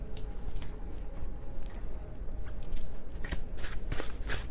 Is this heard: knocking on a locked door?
no